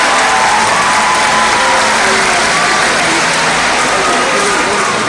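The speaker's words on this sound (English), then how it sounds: "let's give our audience members a round of applause" Dense, steady applause from a large audience fills the seating at a SeaWorld San Antonio orca show stadium, loud and continuous with a rain-like hiss and some crowd noise throughout.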